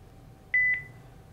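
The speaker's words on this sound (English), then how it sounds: "click on this record button, and it's going to call my phone" A phone system places an outbound call to a user's phone from a ShoreTel browser record button: two short, clear dialing beeps back to back, followed by a brief fading tone over a quiet background.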